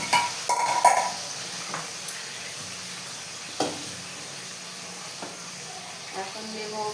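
Chicken pieces are spread in oil in a pot for biryani, setting off a steady close sizzle and hiss, with occasional clinks of a utensil against the pot.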